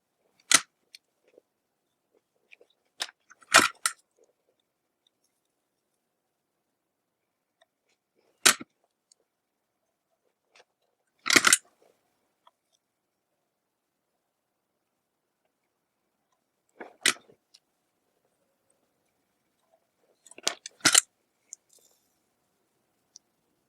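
Wire cutters snip the soldered component leads on a variable power supply circuit board, giving several sharp, isolated clicks spaced a few seconds apart in otherwise silent surroundings.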